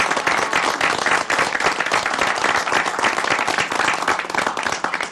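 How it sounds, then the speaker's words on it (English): An audience at a board meeting honoring a Governor's Award recipient breaks into steady, close applause, many hands clapping densely and evenly throughout, with a brief murmur of voices. "applause for her"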